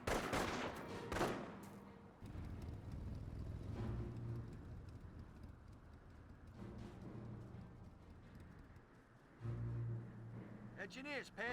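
Gunfire aimed at engineers during a World War II real-time strategy battle in Company of Heroes, rapid distant shots and machine-gun bursts mixed with engine rumble and explosions, under a voice talking.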